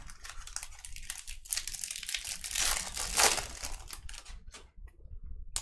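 A baseball trading card from a Topps jumbo box is slid into a plastic card saver, making close crinkling and rustling plastic noises that swell and fade, with a few soft clicks.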